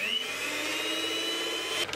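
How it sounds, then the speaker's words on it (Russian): A miniature electric hand mixer with clip-on beaters whirs steadily and close for about two seconds, a high motor whine over a constant buzz, then cuts off near the end. "Миксер крепится с помощью кнопки к этой ножке. Вот, включаем."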